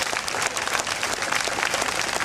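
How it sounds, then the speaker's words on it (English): A crowd applauds steadily, dense clapping filling the room without a break. "let's give those guys a big round of applause"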